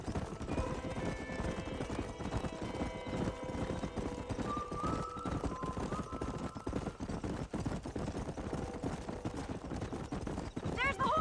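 Horses gallop and neigh in the Red Dead Redemption video game, a busy clip-clop of hooves with whinnies, occasional gunfire and game sound, under ongoing character dialogue.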